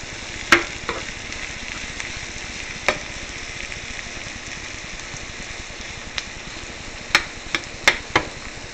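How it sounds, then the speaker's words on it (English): A pot of creamy white chicken chili simmers with a soft steady bubbling hiss while a spoon stirs it, with several sharp knocks and clinks against the pot rim scattered throughout, close by and without talk. "Give that a quick stir."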